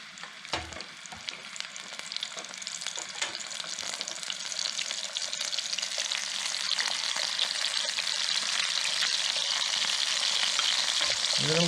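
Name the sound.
glazed tilapia frying in oil in a pan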